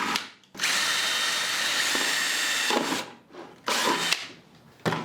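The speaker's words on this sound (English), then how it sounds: "I'm going to be using an 1/8 inch drill bit, and I've decided I'm just going to do 10 holes on either side." A power drill with a 1/8 inch bit bores holes in a plastic bucket, a loud close whining burst of about two and a half seconds followed by shorter runs with brief pauses between.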